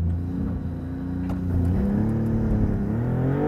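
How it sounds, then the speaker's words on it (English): A Maserati MC20 launches under launch control, its engine holding a loud steady drone before surging and rising in pitch as it pulls away, close and continuous without any talking. "Maserati MC20 with launch control."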